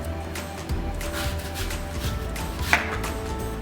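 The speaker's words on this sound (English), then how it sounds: "you can slice up your apple into moderately large pieces" An apple is sliced into fairly large pieces on a kitchen counter, giving a series of soft knife cuts with a sharper click near the end over a low background hum.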